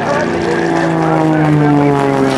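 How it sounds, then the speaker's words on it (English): The Shockwave jet truck, a 36,000-horsepower triple-jet-engine truck at the 2008 Rhode Island airshow, roars loudly and steadily with a rising whine, close and powerful, filling the whole clip without a break. "There goes Shockey. He's chasing him down"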